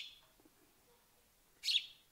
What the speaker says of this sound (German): Wir beherbergen gerade ein Spatzenbaby